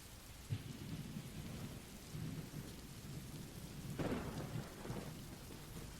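Steady rain patters on a surface around a woodland cabin while low rolls of thunder rumble in the distance, swelling into a louder crack near the end, with no voices.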